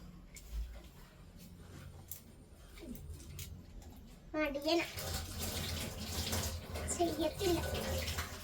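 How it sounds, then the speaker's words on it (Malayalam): Tap water runs and splashes as hands are washed with soap, a steady wash under brief rising sounds and a voice, louder and busier in the second half. "സോപ്പിട്ട് കൈയൊക്കെ കഴുകാൻ."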